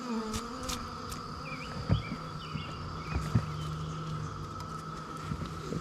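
Honey bees hum from an opened hive during a spring harvest, a steady low buzzing drone with occasional brief higher chirps and faint knocks nearby.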